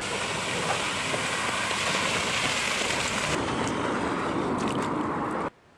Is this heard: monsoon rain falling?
yes